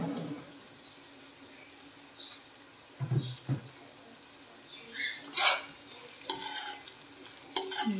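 Bottle gourd curry with curry leaves being fried and stirred in a pan, with soft intermittent scrapes and clinks over a faint low sizzle, close and quiet.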